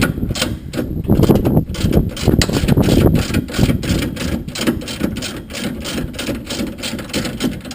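A ratchet clicks rapidly and repeatedly while loosening bolts on the rear coilover of a 2013 Hyundai Genesis Coupe in a garage, a close, steady mechanical rattle with brief pauses between strokes.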